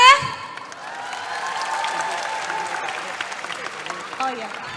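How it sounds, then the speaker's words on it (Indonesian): An audience at a political town-hall event applauds, opening with a brief amplified voice before sustained crowd clapping with some cheering continues at a moderate, even level. "Boleh tepuk tangannya?"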